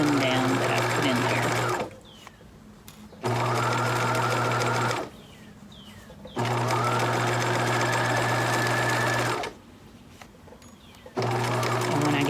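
A sewing machine stitching down the hem of a pleated fabric mask, running in three long bursts of fast humming, rattling needle strokes with short quiet pauses between them, close and loud.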